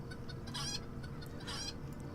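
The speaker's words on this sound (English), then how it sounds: "There's chickens all over." Chickens cluck in Lord of the Rings Online, two clear bursts of fowl calls rising above a steady game ambience across about two seconds.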